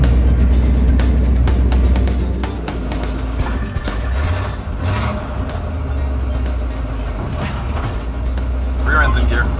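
A project car rolls off on its very first test drive, engine rumbling low and steady with road and drivetrain noise, while people talk excitedly over it inside the cabin.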